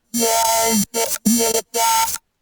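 A gritty, buzzing bass synth plays in four sustained bursts with short gaps, harsh and dense with harmonics, no voice on top.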